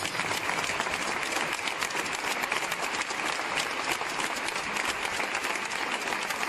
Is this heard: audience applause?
yes